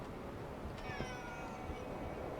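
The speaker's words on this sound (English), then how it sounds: "you're probably hearing my cat meow sometimes" A house cat meows once, a drawn-out rising and falling cry in a quiet room over a faint background hiss, with no voices.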